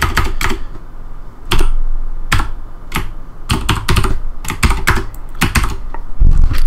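Close, crisp keystrokes on a computer keyboard come in irregular bursts and single taps, loud and alone with no talk.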